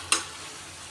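Prawns sautéed in a home pan while Dad cooks: one short, bright stir-and-sizzle burst near the start, then a low steady frying hiss that stays faint to the end.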